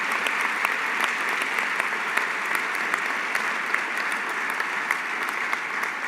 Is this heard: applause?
yes